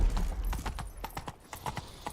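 Horse hooves galloping at a brisk, steady clip-clop in The Witcher 3, close and clear, with a brief whinny-like hint and no talk over it.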